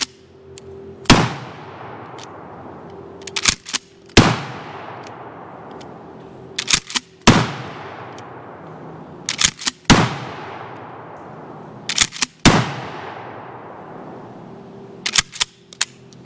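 A Mossberg 590 Shockwave shotgun with a 14-inch barrel fires birdshot, five loud sharp blasts spaced a few seconds apart, each trailing off in a long echo, with metallic clacks of the action cycling between shots.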